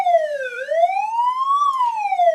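A Powercall DX5200 electronic siren sounds its wail tone, a loud, clean pitch that sweeps down, climbs slowly, then falls again, heard up close with nothing else around it.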